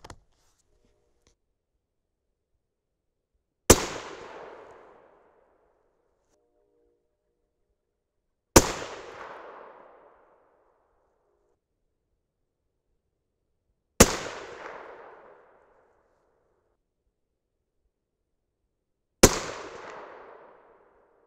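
Four sharp 6.5 Creedmoor rifle shots with 130gr Sierra GameKing bullets over Winchester 760 powder, evenly spaced about five seconds apart. Each crack decays quickly into silence.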